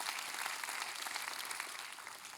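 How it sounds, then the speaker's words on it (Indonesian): Church congregation applauding, a continuous, evenly textured clatter of many hands that sounds somewhat distant and soft, holding steady with no one speaking. "Tepuk tangan yang keras buat Tuhan."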